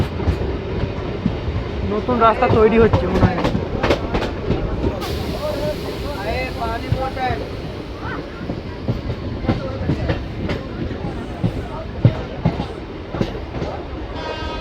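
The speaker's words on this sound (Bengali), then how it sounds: "যাক ট্রেনটা বেশিক্ষণ দাঁড়ায়নি দুমকা স্টেশনে কিছুক্ষণ দাঁড়িয়ে ছেড়ে দিয়েছে" A Rampurhat–Jasidih MEMU passenger train runs along a hilly Jharkhand line, its wheels clattering rhythmically throughout with loud rumbling, while someone talks over the noise.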